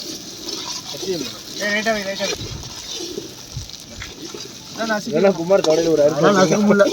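Onions sizzle steadily in a pan while a duck fry is cooked at a New Year gathering. The frying stays close and continuous under loud overlapping conversation.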